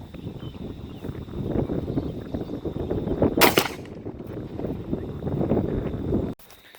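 A single loud shotgun blast rings out outdoors, fired through an improved cylinder choke at a target 30 yards away while patterning a duck gun. It rises out of constant wind noise and low background rumble, with no speech.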